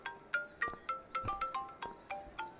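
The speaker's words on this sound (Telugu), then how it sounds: "అమ్మాయి ఫోన్ రింగ్ అవుతుంది, ఇచ్చేయండి సార్." A mobile phone rings with a bright, melodic ringtone, a faint repeating pattern of short chiming notes in an even rhythm, with no other sound over it.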